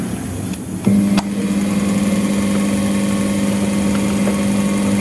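A 220V DC armature motor plugged in and spinning up, a sharp start followed by a steady, close, humming whine that holds for several seconds.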